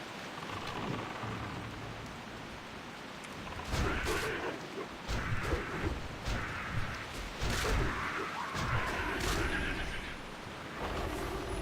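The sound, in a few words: rain and thunder in World of Warcraft video game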